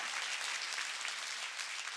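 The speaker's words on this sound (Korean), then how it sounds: "박수로 하나님께 해야 돼요" Congregation applauding during a Korean church worship service, a dense steady wash of many hands clapping continuously at a fairly soft level, with no voices over it.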